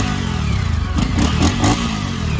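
A Honda XRE 300 Rally motorcycle fitted with a Motocar 2-in-1 exhaust revs loudly up close, its throaty idle rising into several quick throttle blips.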